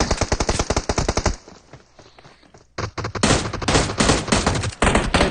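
Rapid automatic gunfire rattles in a competitive video game scrim, loud dense bursts that pause briefly and then resume in a long sustained volley, with no talking.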